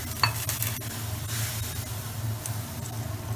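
A mixture of tamarind water, jaggery and hot water boiling in a pan, giving a steady bubbling sizzle with a few faint clinks and stirring sounds, close up and with no talk.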